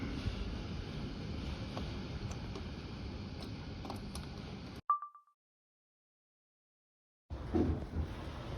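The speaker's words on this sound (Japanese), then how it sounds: "ただいま台風の影響でものすごい風が吹いてます。" Strong typhoon wind in Miyazaki, a roaring, buffeting gust noise battering the microphone, cut off abruptly to silence for a couple of seconds before the blustery roar returns.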